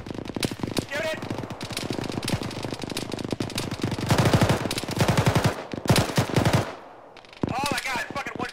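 Bursts of automatic machine gun fire in a ShackTac military video game, rapid loud rattles filling most of the stretch with a brief lull near the end, under overlapping voices.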